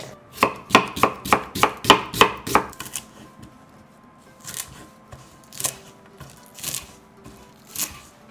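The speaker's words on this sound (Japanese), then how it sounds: "玉ねぎ薄切りにしていきます" An onion is sliced thinly with a kitchen knife on a cutting board, about nine quick, even chops close up, then a few slower scattered cuts after a short pause.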